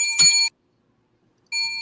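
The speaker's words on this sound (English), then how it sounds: "That's his normal bell, but at a higher pitch." A bright, high-pitched steam locomotive bell rings once with a sharp strike and short ring, then silence, followed by a second ring starting at the end.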